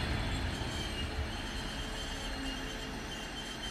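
A Class 450 train on a stopping service to Lagos in the Algarve, Portugal, rumbles past close by, a continuous heavy roar of wheels on rails with a faint high squeal, loud and steady throughout.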